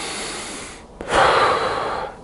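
A single deep, forceful inhalation through the mouth, rushing and breathy, heard up close after a brief gasp, as in a Wim Hof style breathing round.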